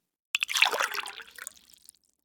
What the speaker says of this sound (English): He put one foot in the water, then another.